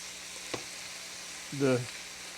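Sausage and cabbage fry quietly in a skillet with bacon and sausage grease, a soft low sizzle with a brief clatter and a short burst of speech.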